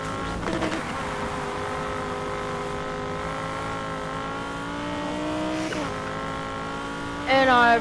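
A Lamborghini Huracan engine in Need for Speed Heat holds a steady, sustained whine with rising tones, with tire squeal and a louder revving burst at the end and a voice talking over it.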